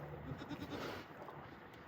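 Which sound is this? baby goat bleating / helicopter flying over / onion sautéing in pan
baby goat bleating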